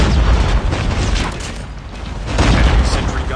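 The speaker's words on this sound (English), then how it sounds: "Enemy sentry gun has been destroyed." A sentry gun being destroyed in the Call of Duty Mobile video game gives a dense, loud, booming crash of noise that swells, dips briefly, then surges again, mixed with other battle sounds.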